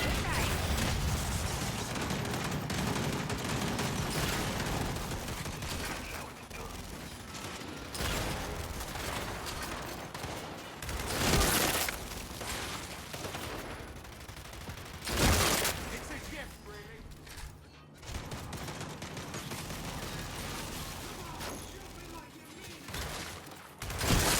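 Gunfire from the Gears 5 Horde mode video game, a dense stream of shots and bursts running throughout, with a couple of louder blasts standing out and someone speaking over the action.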